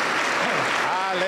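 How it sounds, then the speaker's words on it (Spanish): A church congregation in Junín, Peru, claps through a worship service. The applause is loud and close and fills the short moment, with voices mixed into it. "Y mi aplauso para el Señor Jesús"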